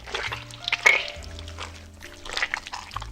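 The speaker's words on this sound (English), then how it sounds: "Now get your brownie batter and pour it in." Brownie batter is poured into a baking pan, making soft, gloopy pouring and plopping sounds in a couple of bursts, with light clinks of utensils close by in a quiet kitchen.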